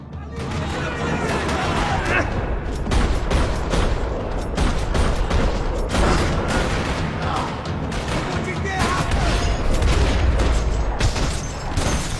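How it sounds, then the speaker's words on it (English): Dense, rapid gunfire in Max Payne 3 crackles nonstop in a parking lot, bursts overlapping with booms and impacts, loud and close throughout. "Another parking lot rattling with gunfire."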